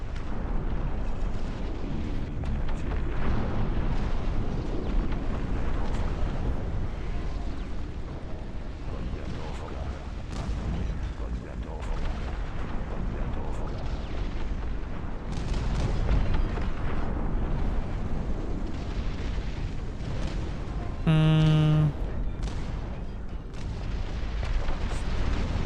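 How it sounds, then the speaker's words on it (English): Artillery fire in the real-time strategy game Dust Front RTS: a steady rumble of distant booms and blasts that runs without pause, broken by a brief tonal chime near the end. A voice speaks now and then. "What is this artillery?"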